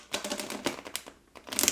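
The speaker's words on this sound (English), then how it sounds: "I'm gonna shuffle off camera so that we don't have some fire emergencies over here." Someone shuffles a deck of cards for a card reading, making several quick papery riffling bursts with brief pauses between them, close up with no voices.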